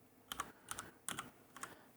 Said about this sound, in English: I've just started typing joystick